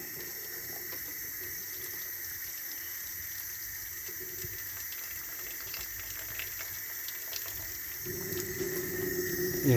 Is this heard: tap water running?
yes